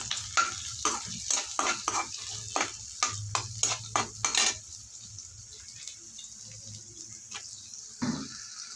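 Quick scraping strokes of stirring over a pan's hiss as onion, ginger and garlic fry, dense at first, then easing into a softer steady sizzle with occasional clinks.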